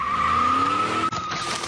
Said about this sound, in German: Steig aufs Gas!